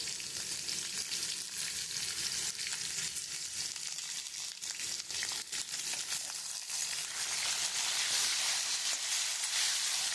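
Potato pieces fry in a pan until reddish for a Bengali dhoka curry with chana dal, giving a steady, close, bright sizzling hiss that holds evenly throughout with no voices.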